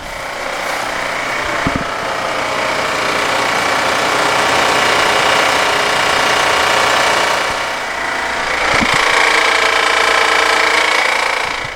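A Honda Pilot engine runs steadily close by with a rattling, ticking mechanical noise attributed to a failing timing chain tensioner, a constant loud drone with faint clicks throughout.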